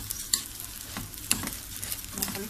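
Rice and vermicelli sautéing in a pan at home, a steady crackling sizzle with soft stirring scrapes and a few sharper pops, close and continuous with no talking.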